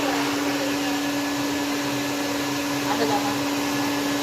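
A blower runs steadily at a customer service visit, a constant broadband whoosh with a steady hum, unbroken and fairly loud throughout with no talking.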